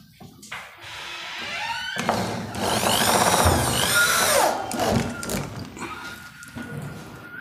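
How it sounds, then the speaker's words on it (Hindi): A screw is driven in while a Godrej door closer is fitted to a door, giving a loud, continuous whirring tool sound with rising and falling pitch and some clattering, heard alone without talk. "तो चलिए हम स्क्रू टाइट कर लेते हैं।"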